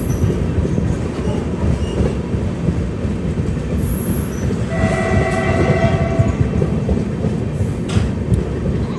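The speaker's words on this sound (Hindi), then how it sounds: "बिल्कुल आराम से प्यार से हमारी ट्रेन अभी चल रही" The Sairang Rajdhani Express rumbles steadily along the rails in a continuous low roar with wheel noise. Partway through, a distant horn tone rises above the rumble.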